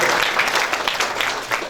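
Audience applause at a fundraising breakfast, a steady wash of many hands clapping close by with a few louder spikes, continuous for the whole moment.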